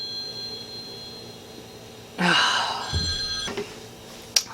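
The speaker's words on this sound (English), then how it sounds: "My phone rang and I had to go answer my phone." A phone rings indoors, a bright electronic trill lasting over a second that starts abruptly and cuts off, fairly close over a hum of background noise.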